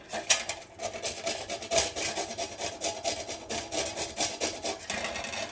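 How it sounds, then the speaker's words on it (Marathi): Small hand grater shredding a fresh kohlrabi, giving steady rhythmic rasping strokes at close range, repeated continuously with no talking. "छोट्या किसणीने हा नवलकोल वरचं साफ करून घेतलं आहे किसायचं आहे"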